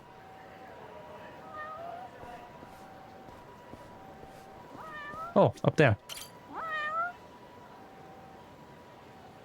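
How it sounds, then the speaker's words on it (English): A cat meows in the Judgment video game, a couple of sharp, loud rising cries followed by a longer wavering meow, set against quiet background music and a short spoken line. "Well, I heard meow."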